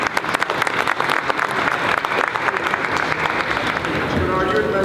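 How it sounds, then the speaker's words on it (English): A crowd claps steadily at a boxing press conference after the Bernard Hopkins vs Sergey Kovalev fight, a dense, sustained wash of applause filling the room throughout. "give him credit and applause right now, because he did a fine job"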